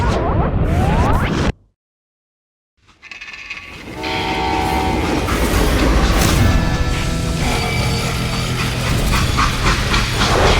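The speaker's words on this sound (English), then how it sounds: "They hopped a freight train," A freight train in the western video game Call of Juarez Gunslinger rumbles loudly along the rails with rhythmic clatter and a horn, breaking off for a moment of near-silence before the roar resumes and holds steady.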